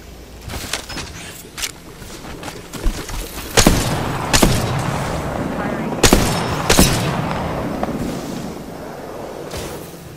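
R-99 submachine gun fire in Apex Legends, heard as several loud, sharp bursts of rapid shots with thumps and booms scattered across a busy battle, and game voice lines now and then.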